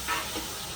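Mutton cooks in a home kitchen with a steady, soft sizzle and hiss, continuous and fairly close, briefly lifting and settling with no voices over it.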